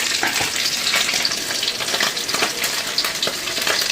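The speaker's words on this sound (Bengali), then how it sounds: "মাছ ভাজা হয়েছে, দাঁড়া ভালো দেখে ভাজাটা নে" Bhola fish frying in a pan gives a close, steady crackling sizzle with spattering pops and soft stirring throughout, with no voices.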